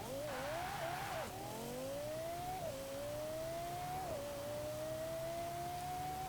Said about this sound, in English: there's that absolutely brutal acceleration from the glorious V10, which is still one of the best sounding engines ever made